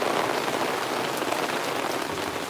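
Heavy rain pours down steadily outdoors at a gold prospecting and sluicing site, a dense, even hiss of drops striking surfaces that stays loud and unbroken throughout with no voices.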